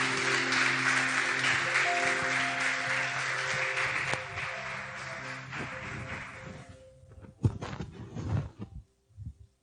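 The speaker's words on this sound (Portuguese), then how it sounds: "Aplaude o Senhor." A church congregation claps together during a worship service, a broad wash of applause over sustained music that gradually fades, followed by a few scattered sounds as it dies away.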